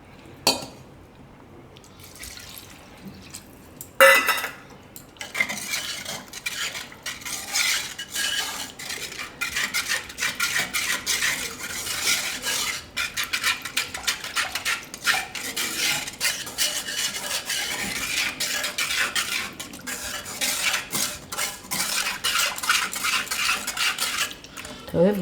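A spoon stirs maize flour, curd and water in a pot for Gujarati makkai raab, making continuous close scraping and clinking against the metal. It is louder and busier from about four seconds on, with no talk.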